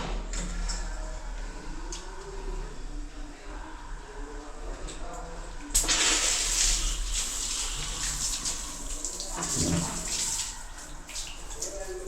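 Water from a tap runs steadily, then gushes louder halfway through, splashing into a tiled space; faint voices murmur in the background.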